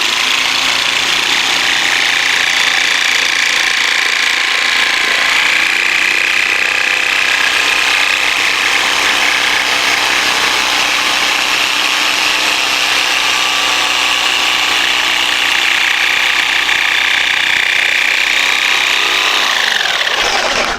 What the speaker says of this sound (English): I'll remove the jigsaw, come in from the back side, one more relief cut